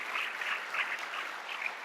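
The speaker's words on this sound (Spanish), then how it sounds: "aplauso para todos ustedes." Applause from an audience at an anniversary game-development event, a brief, steady burst of clapping that sounds fairly distant and soft, with no talk over it.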